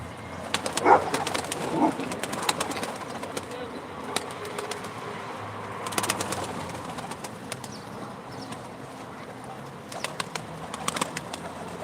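Pigeons coo and flutter at a live pigeon auction in Ankara, with soft repeated calls and occasional wing noise over a busy background murmur.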